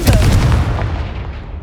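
Confringo spell blast from the Hogwarts Legacy video game, a single loud booming burst that rolls off into a fading rumble.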